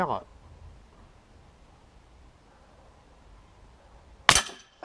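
A single sharp crack from a Beeman P17 air pistol being fired, loud and brief after a few seconds of quiet room noise, with a faint click at the very start.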